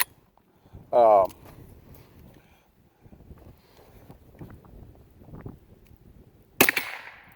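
A Squires Bingham model 50 .22 LR rifle fires two sharp, fairly loud shots a few seconds apart outdoors, with wind noise and a brief vocal exclamation between them.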